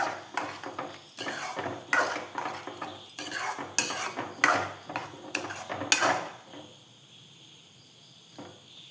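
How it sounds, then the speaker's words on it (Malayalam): A utensil scrapes and clinks rhythmically against a pan while egg is stirred, loud and close, with strokes about twice a second for six seconds before stopping, leaving faint insect chirping behind. "ഇനി ഇത് ചട്ടിയുടെ അടിയിൽ പിടിക്കാതെ തുടർച്ചയായിട്ടൊന്ന് ഇളക്കിക്കൊണ്ടിരിക്കണം"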